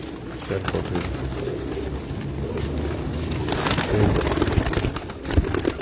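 Shal Koti pigeons coo on a rooftop, repeated low throaty rolls close to the microphone, with someone talking and scuffling noises in the background.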